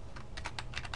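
Rapid keystrokes on a computer keyboard while entering a spreadsheet shortcut: about half a dozen crisp, close clicks in quick succession, with no voices.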